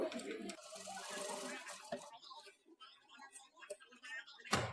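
A sewing machine stitches invisible thread piping in short bursts of fast whirring. Speech comes and goes among light clicks and fabric handling.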